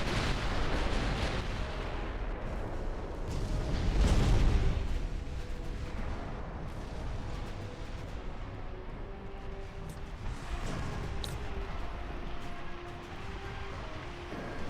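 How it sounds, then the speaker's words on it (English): Battleship guns fire in the naval warfare game Ultimate Admiral: Dreadnoughts, with a heavy, booming salvo around the middle of the clip and a lower, rumbling battle backdrop with scattered distant reports. "Might as well shoot at them."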